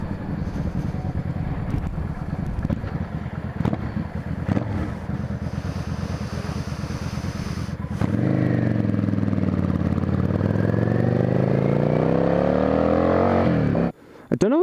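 Yamaha V-Star XVS650A Classic motorcycle with stock exhaust, a steady low engine rumble that climbs in pitch as it accelerates midway, heard with rushing wind noise and no talking.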